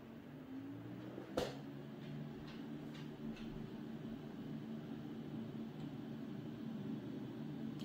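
A light aircraft engine drones steadily at the start of a takeoff roll on the runway, with a sharp click early on and the tone holding a constant, moderately loud level.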